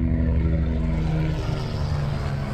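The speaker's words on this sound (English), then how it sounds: "Helicopter." Helicopter passing overhead, a steady low droning rotor and engine hum with tonal whine, continuous and moderately loud throughout with no voices.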